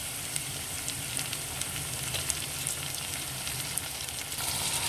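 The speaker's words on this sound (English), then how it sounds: "So I'm going to add the tomatoes in right now." Tomatoes hitting a pan of translucent, softened onions for a vegetable egg tofu soup, giving a steady, close, fairly loud sizzle with small pops and crackles throughout and no talking.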